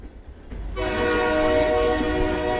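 A train rolls past nearby, its loud horn blaring in a sustained harmonic tone over the steady rumble of wheels on the rails.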